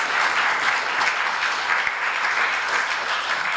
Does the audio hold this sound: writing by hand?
no